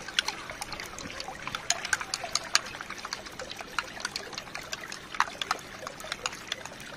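Water mixed with dish soap being stirred, giving a steady close trickling, splashing sound with scattered bright sloshes throughout, no speech.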